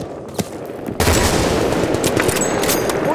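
Battlefield Bad Company 2 combat: a lone shot, then heavy sustained automatic gunfire bursts in and keeps up loudly, with sharp individual cracks scattered across the dense barrage.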